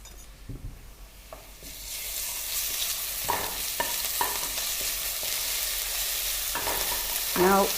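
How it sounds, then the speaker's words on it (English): Crushed ginger and garlic hit browned onions in a pan for a mutton curry, and a loud hiss rises and holds as a spatula scrapes and stirs now and then. "Let's add the crushed ginger garlic"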